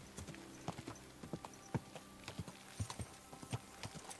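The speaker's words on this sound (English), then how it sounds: "So I might just want to let the horse go for now." Horse hooves clip-clopping at a walk in the medieval video game Kingdom Come: Deliverance 2, a quiet, regular series of distinct hoof knocks against a soft ambient bed.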